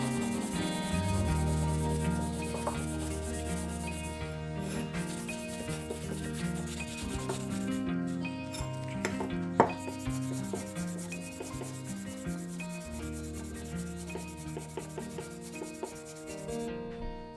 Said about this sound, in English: it's just a matter of just lightly polishing all these components to bring back some of that original shine